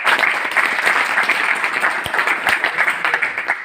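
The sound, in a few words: audience applauding to welcome cabinet minister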